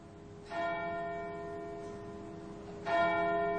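Church bells in a radio drama of Dickens' The Chimes strike twice, each ringing chime bright with long sustained overtones that linger and fade, the second stroke swelling in as the first still hums, with no voices.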